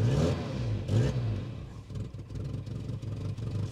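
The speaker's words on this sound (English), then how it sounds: "It does have a little exhaust blow." A 1990s Peugeot 405 estate engine idles with a steady, slightly uneven rumble and faint ticking puffs from a small exhaust leak, close by, with no one talking.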